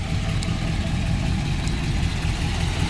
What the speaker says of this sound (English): I'm not exactly sure if this is a 272, 292, or 312, but motor runs great